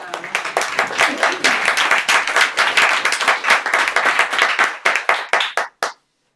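Audience applause at a book presentation, brisk and loud clapping from a small crowd that thins to a few last claps before stopping abruptly.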